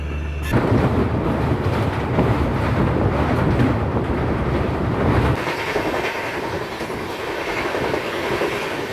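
Gorakhdham Superfast Express running at speed, heard from inside a sleeper coach: a loud, continuous rumbling roar with rattling carriage noise, the low rumble easing off partway through, no voices.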